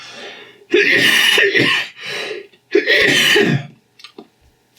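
Two bursts of harsh, raspy coughing close to the mic from a person undergoing chemotherapy after oesophageal cancer surgery, each a cluster of hacks, followed by a couple of small throaty noises.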